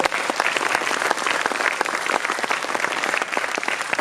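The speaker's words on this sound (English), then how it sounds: "we should give a big round of applause, all the parents sitting there, all of us" A convocation audience applauds steadily and loudly for the full span, dense clapping from many hands with no pauses.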